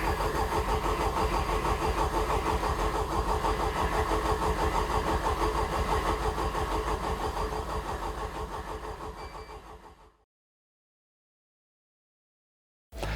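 A race car engine cranks repeatedly without port injection in a workshop, the starter churning in a fast, steady rhythm for about ten seconds without catching, then cutting to silence before a brief burst at the very end.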